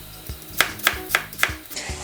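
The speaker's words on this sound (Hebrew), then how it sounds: "לקצץ בצל" A knife chops an onion on a cutting board, with about seven crisp, evenly spaced strikes in a steady rhythm, close and clear, and no talking.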